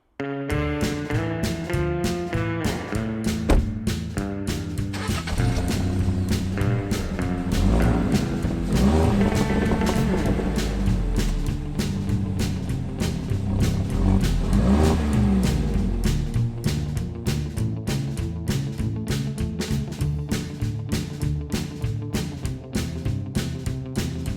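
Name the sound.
Fiat 500C Hybrid FireFly 1-liter three-cylinder engine revving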